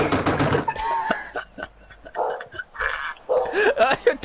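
A pet dog barks and yips in short, excited bursts near the microphone at home during a FIFA 19 session, interspersed with whimpers and a person talking.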